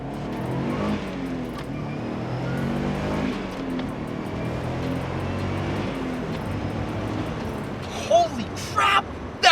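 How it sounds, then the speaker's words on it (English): A first-generation Subaru Impreza WRX STI, a modified daily driver, pulls hard through its gears with a steady engine drone and shifting harmonics. Some short louder bumps come near the end. "Rowing through the gears in this thing is just plain fun."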